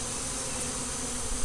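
A swarm of honey bees buzzing in a steady, dense drone that holds at an even level throughout, close and unbroken.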